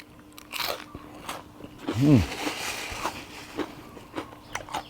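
Crispy fried battered soft-shell crab is bitten and chewed up close, with sharp crunches and wet chewing sounds in a quiet room and a brief vocal murmur midway.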